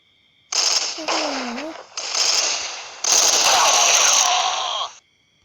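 Bursts of rapid automatic gunfire and weapon mechanics in the video game Crisis Action, several loud sustained volleys with short gaps, close and dense throughout.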